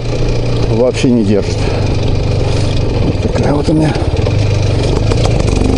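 An IZh Planeta motorcycle engine runs with a rough, uneven two-stroke chatter, revving in short rising bursts near the start and again midway, loud and close while someone talks over it.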